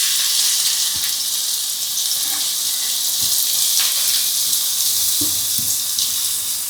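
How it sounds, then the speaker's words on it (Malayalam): Onion, green chilli and curry leaves sautéing in coconut oil give a steady, loud broadband sizzle with a few soft clicks and scrapes scattered throughout, no voices. "എന്നിട്ട് വെളിച്ചെണ്ണ ഒഴിച്ചിട്ട് നമുക്ക് ഇത് സവോളയും പച്ചമുളകും വേപ്പിലയും വാട്ടാം."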